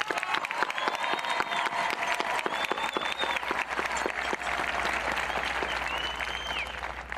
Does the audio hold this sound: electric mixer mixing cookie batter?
no